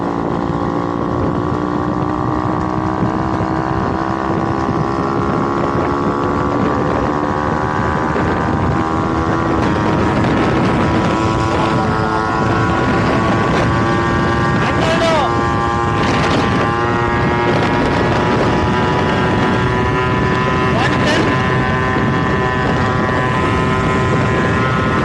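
A Yamaha RXZ motorcycle engine drones loud and continuous while riding at speed in fourth gear, its pitch rising slowly under heavy wind rush, with faint talking over it.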